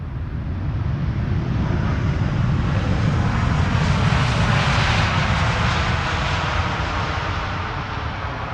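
An 11-year-old TUI Boeing 787-8 Dreamliner landing at Amsterdam Schiphol, its jet engines producing a loud continuous roar that swells as it passes close overhead, then slowly eases, with wind buffeting the microphone.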